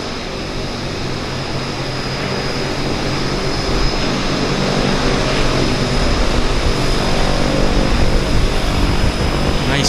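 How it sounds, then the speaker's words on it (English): A propeller floatplane lands in Vancouver's downtown harbour, its loud, steady engine drone swelling gradually as it nears, alone without talk. "Nice landing on the Caravan."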